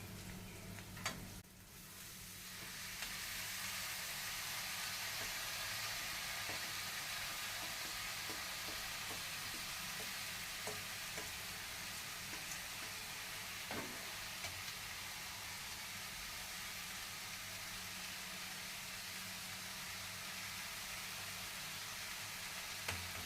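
Red amaranth leaves fry and get stirred in a pan, giving a steady, loud sizzle with faint scattered ticks of the spoon running throughout.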